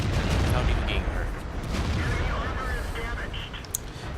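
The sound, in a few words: tank cannon shot in World of Tanks video game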